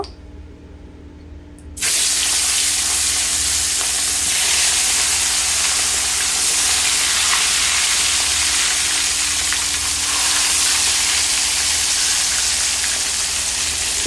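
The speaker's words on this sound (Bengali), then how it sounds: "রুই মাছটা একদিকে ভাজা হতে হতে" Pieces of rohu fish coated in salt and turmeric drop into hot oil in a pan. After a quiet second or two, a loud, continuous sizzle and spatter erupts and stays strong to the end.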